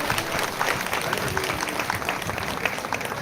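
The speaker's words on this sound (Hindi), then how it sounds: "दीदी के लिए जोरदार तालियां बजनी चाहिए।" An audience at a two-day youth and school workshop in India claps loudly and steadily, a close, dense burst of applause sustained throughout with a faint murmur of the crowd.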